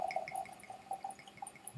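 Scotch whisky, an Islay blended malt at 46% ABV, pouring from a freshly uncorked bottle into a glass, giving faint, close liquid trickles and glugs with light glassy ringing.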